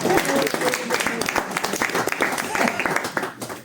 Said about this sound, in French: Merci pour ces applaudissements au fond.